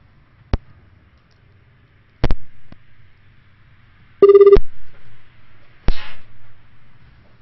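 A phone rings in short electronic bursts, a few separate chirps followed by a clear ringtone pulse, with quiet gaps in between and no talking.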